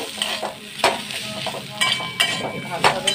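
A spoon scrapes and stirs ground cumin, coriander and green chili into a pointed gourd (potol) dry sabji in a hot pan, Gujarati style. Repeated close stirring strokes ride over a steady sizzle, with no talking.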